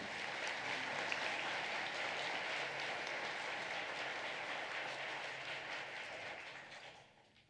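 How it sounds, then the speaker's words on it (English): An elementary school awards ceremony audience claps for students, a sustained crowd applause that holds steady and then tapers off toward the end. "Let's give these students a round of applause, please."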